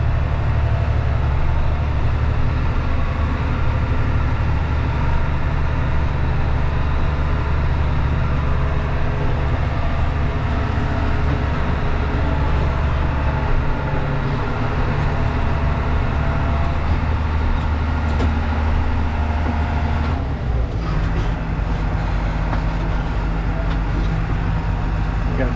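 A tractor on a farm during lambing season rolls around a corner into a barn, a steady low engine rumble close by with mechanical rattle and a shift in tone near the end.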